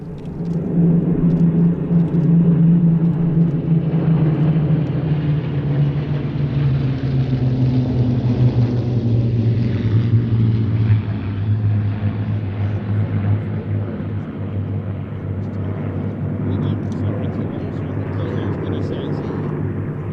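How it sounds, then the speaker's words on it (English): A steady, loud droning rumble of a propeller aircraft formation sweeps past at an airshow, the pitch sliding downward as the aircraft pass, with a voice faintly audible beneath. "This is the last pass of the formation, says Paul."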